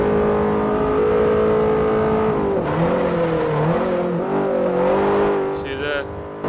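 A racing car in Forza 4 brakes hard into a corner, its engine note loud and steady, then dropping and wavering as it downshifts, with a brief rising tire squeal near the end.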